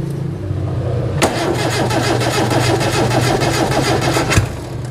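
A Suzuki Zebra 1.3 carburetor car engine cranks over on the starter in a steady, rapid rhythm for about three seconds, ending in a sharp backfire bang, loud and close.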